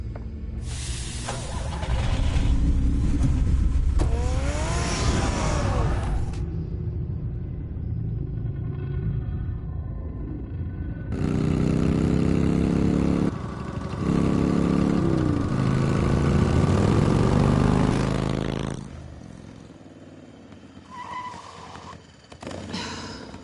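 Car engine in the Batman Telltale Series video game, a loud, deep rumbling drive that runs through two long stretches with a gap between them and fades out near the end, with music under it.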